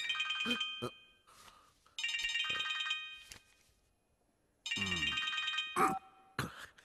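A phone ringtone for an incoming call rings out in loud, close bursts that repeat with short silent gaps between them, with no talking over it.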